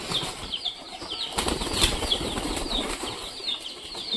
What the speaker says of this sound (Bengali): তো ছেড়ে দিলাম, সব কবুতর ধীরে ধীরে বেরোবে।